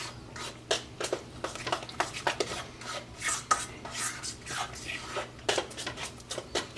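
An egg being mixed into beer batter dough in a bowl for onion rings and drunk chicken, heard as a run of irregular soft scraping and tapping strokes at close range.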